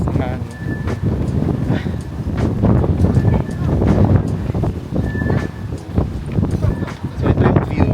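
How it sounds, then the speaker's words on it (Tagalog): Strong wind roars across the microphone on the 91st-floor observation deck of Taipei 101, a steady rushing buffeting under continuous talk. "Sobrang lakas ng hangin."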